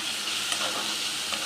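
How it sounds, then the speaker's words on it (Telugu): Grated bottle gourd fries in a pan for a sweet kheer, giving a close, steady sizzle with light stirring scrapes throughout. "ఇలా ఫ్రై చేస్తూ ఉండాలండి"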